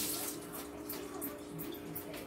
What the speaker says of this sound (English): I'm gonna rinse my hands off again